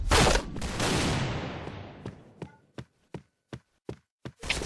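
Gunfire in a Point Blank shooter game: a dense burst of rapid shots fades out, followed by a run of separate sharp single shots spaced evenly apart, close and fairly loud.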